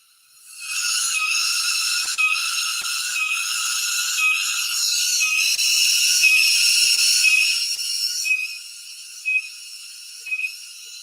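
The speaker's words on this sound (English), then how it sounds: "that's the sound of the cicadas and insects" Cicadas and other insects in Bali before daybreak, a continuous high, shrill buzzing drone that swells in and holds steady, then thins out with a few isolated chirps near the end.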